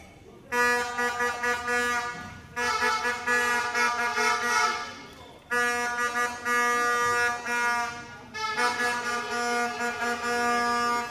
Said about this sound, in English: that's the buzzer for the end of the first quarter